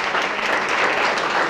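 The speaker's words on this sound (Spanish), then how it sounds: "y un fuerte aplauso, por supuesto" An audience at a talk on memories of Alcorlo in Cogolludo gives steady, dense applause, a broad continuous clatter of many hands at even loudness throughout, with no speech over it.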